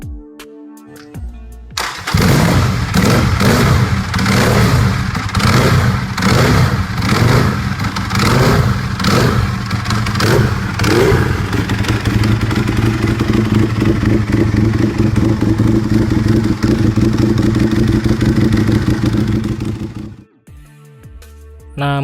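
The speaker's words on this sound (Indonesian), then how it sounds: "bahkan suara knalpotnya pun juga terbilang cukup berisik untuk sebuah motor standar" A Harley-Davidson VR-1000 superbike engine fires up and revs hard, its loud rasping exhaust rising and falling before settling into a steady roar, then cutting off.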